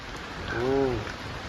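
Rain falling in a steady soft patter, with a short tonal sound rising briefly in the middle and faint background murmur.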